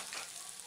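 Whole spices tempered with asafoetida sizzle in hot oil while being stirred for a moong dal and tomato dish, a steady close hiss with no talk.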